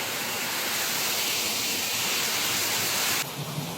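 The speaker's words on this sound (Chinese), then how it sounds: "现在瀑布流下来" A waterfall pours into a deep pool in a rocky mountain stream, making a loud, continuous broadband roar close by that drops suddenly near the end.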